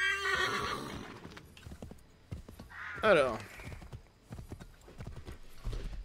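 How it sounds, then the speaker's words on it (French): In Assassin's Creed III Remastered, a horse whinnies, loudest midway, while hooves clip-clop in an irregular walking rhythm; someone speaks briefly near the start. "Attends, monte à cheval."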